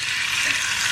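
Chicken breast, cut thin, frying in a hot pan for Japanese chicken ramen soup, a loud, steady, close hiss of sizzling oil with no pause.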